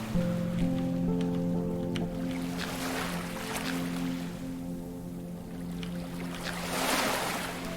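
Sea waves wash softly onto a beach in the video game Lorelai, a continuous gentle surf hiss under sustained tonal game music.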